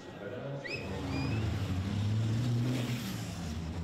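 Heavy racing trucks rumble and rev on formation laps at the Le Mans circuit in a European truck racing round, a loud sustained engine drone with a passing whine, no talk over it.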